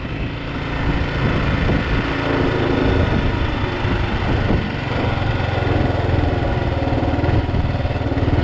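A Kawasaki KLR650 motorcycle ridden over rough ground in the Great Sand Hills, its single-cylinder engine droning loud and steady throughout with slight rises in revs and no voices.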